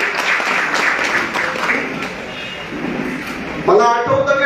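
An audience at a party workers' rally in Ulhasnagar breaks into sustained applause, a dense wash of clapping that carries under someone speaking over a PA, with musical tones joining near the end.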